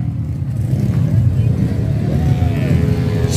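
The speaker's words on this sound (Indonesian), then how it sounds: "Ini dia motornya" Motorbike engine revving close by in a workshop, a loud low mechanical drone with a rising whine and steady throb, under a little background talk.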